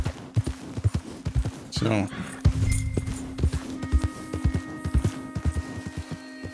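Rhythmic clip-clop of horse hooves trotting in Red Dead Redemption 2, steady and fairly close, while a person speaks over it.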